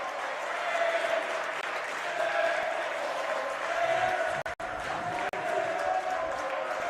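A Western Australia crowd at an under-18 boys cricket preliminary final keeps up a steady, loud roar of noise and clapping aimed at the batsman. The noise continues throughout with a voice faintly audible within it.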